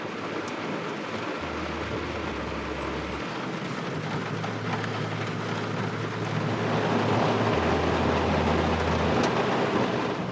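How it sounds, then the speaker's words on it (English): Heavy rain drums on the roof of a van parked for stealth camping in Pembrokeshire, a dense, steady hiss heard from inside that grows louder partway through, with a low droning hum underneath. "There's a band of rain just passing through."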